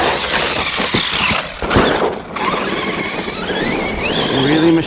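An Arrma Outcast 4S V2 RC car, slipper clutch loosened slightly, whines loudly as it accelerates hard into a wheelie, with a high rising motor squeal, a brief dip midway, then a renewed surge.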